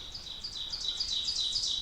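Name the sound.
birds singing at a beaver pond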